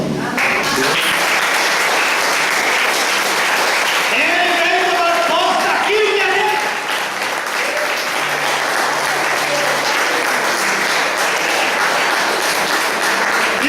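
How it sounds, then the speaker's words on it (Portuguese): A church congregation claps loudly and continuously throughout, while a preacher speaks over the applause for a few seconds. "Você pode aplaudir?"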